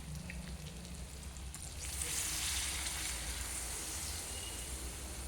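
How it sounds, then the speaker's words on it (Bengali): Water poured into a pot of sizzling meat after browning: a rush of hissing, bubbling sizzle swells up sharply and keeps steaming loudly and steadily, following quieter frying. "এখন আমি মাংসটাতে জল দিয়ে দেবো, কারণ কষানোটা হয়ে গেছে"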